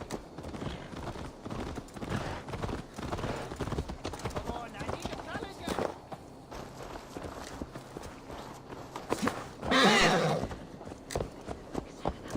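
Horse hooves clip-clopping in Assassin's Creed Valhalla, a repeated steady walking rhythm of hoofbeats under game ambience, with voices speaking and a brief louder rush near the end.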